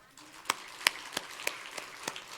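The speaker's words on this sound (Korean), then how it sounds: "우리 어른들 박수 한번 치십시다" Congregation in a Korean church giving a short round of applause, heard as a handful of sharp, spaced claps rather than a full ovation, fairly close and distinct.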